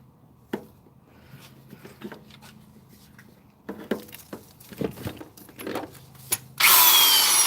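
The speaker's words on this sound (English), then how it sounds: "Let's plug this drill in." An electric drill bursts into a loud, steady whine in the final second, after quiet knocks, clicks and handling noises as it is set up.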